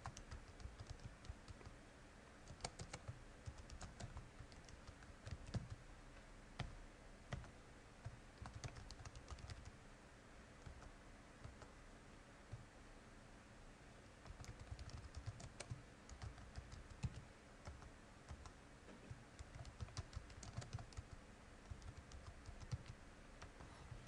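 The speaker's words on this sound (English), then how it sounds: "just type in a couple things" Typing on a computer keyboard while entering text for titles in video editing software, a steady run of soft, quiet key clicks and occasional louder taps, heard alone without speech.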